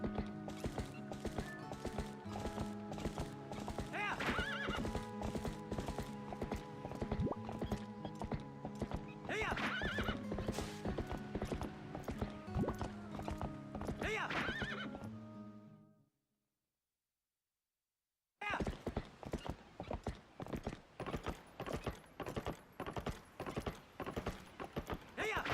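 Rhythmic horse hoofbeats and whinnies from the video game The Legend of Zelda: Twilight Princess, a repeated clip-clop gallop with neighs over game music, dropping to total silence briefly before the galloping resumes.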